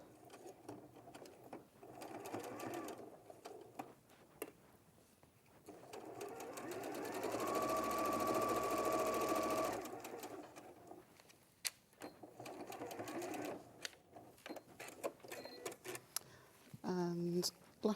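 A sewing machine stitches a garden-path quilt in one steady, loud run of about three seconds mid-clip, with quieter starts and snips around it while someone talks throughout.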